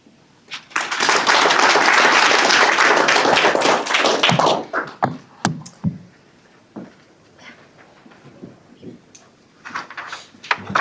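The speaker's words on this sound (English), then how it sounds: "maybe a clap of hands, if you indulge me" Audience clapping hands at a digital economy policy guide launch: a dense burst of applause lasting a few seconds, then fading into scattered individual claps and taps.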